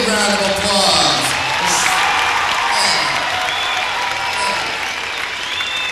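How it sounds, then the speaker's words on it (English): A crowd applauds women skateboard competitors at a 1986 Vancouver event, a dense, sustained wash of clapping with scattered cheers that holds steady throughout and tapers slightly at the end. "Let's give them all a big round of applause."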